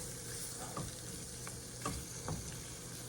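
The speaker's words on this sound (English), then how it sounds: "I'm gonna let this simmer some first" Beef simmering in a pan for pepper steak, a soft steady sizzle with a few faint clicks and light stirring taps, quiet and close with no talk.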